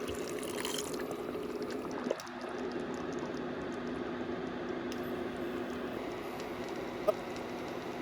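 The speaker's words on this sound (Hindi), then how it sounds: "थोड़ा पानी डाल लेता हूँ।" Water is poured into a Goan clam curry in a pan, a soft, steady pouring hiss heard close and quiet without talk, with a couple of faint clicks.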